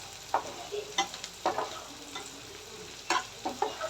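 Onion and shrimp fry in a pan, a low steady sizzle punctuated by repeated scraping stirs of a spatula at irregular intervals, close and soft with no speech.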